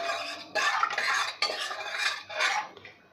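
A spoon stirs salt into lentils inside a pressure cooker, with close metallic scraping in several separate strokes and short pauses between them.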